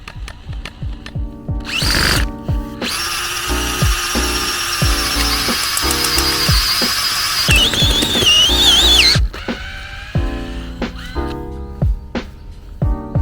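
A power drill spins an auger bit into garden soil among roots and stones while bulbs are planted, giving a loud sustained whirring drone with short bursts and gaps near the start and end.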